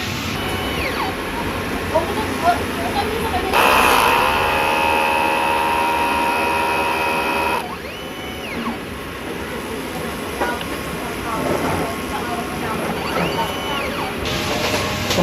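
A large format printer runs its head clean cycle, a steady mechanical hum with whirring carriage and pump sweeps and a louder burst of motor noise in the middle, with no talking.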